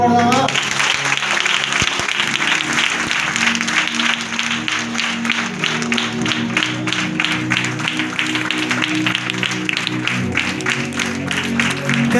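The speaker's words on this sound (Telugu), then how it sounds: "చప్పట్లు కొడదామా?" Steady crowd applause at a house-warming celebration in a Salvation Army church compound, loud and sustained throughout with a rhythmic clapping pulse and music underneath.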